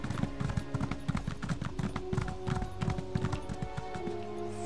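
Horse hooves clip-clopping in quick, steady rhythm while riding in the video game Elder Scrolls Online, close and fairly quiet, with no talk over them.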